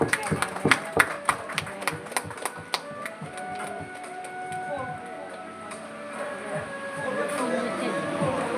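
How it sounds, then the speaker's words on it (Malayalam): Guests at a golden wedding anniversary celebration clap in a burst of sharp, uneven claps that taper off after a few seconds, leaving background chatter and room noise with some scattered taps. "കൈയടിക്കുക എല്ലാവരും, കൈയടിക്കുക."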